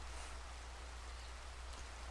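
Steady rain pours during a thunderstorm in a video game, a soft, even hiss of falling drops that holds at a low, constant level with no thunder or other sounds standing out.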